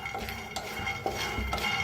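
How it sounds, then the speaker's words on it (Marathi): Peanuts dry roasting and being stirred in a kadai, with repeated scraping and rattling of the nuts against the metal pan at close range and no talk. "शेंगदाणा चांगलं भाजून घेऊया"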